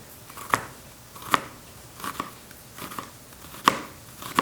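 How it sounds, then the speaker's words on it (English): A kitchen knife slices through an onion on a cutting board while preparing a wild boar hash, giving a handful of separate, crisp cutting crunches spaced irregularly, close up and fairly quiet, with no talking. "But what I want to do real quick is just slice this onion."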